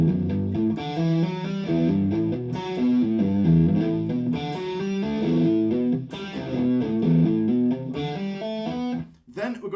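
Distorted electric guitar plays a fast shred lick of rapid, closely spaced notes with a heavy saturated tone, loud and continuous with brief gaps between phrases.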